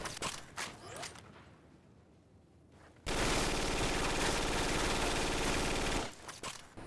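The ECR Phoenix gun fires in a sustained, very rapid automatic burst lasting about three seconds in an unreleased Xbox 360 shooter, loud and close, framed by scattered shots and mechanical clicks before and after.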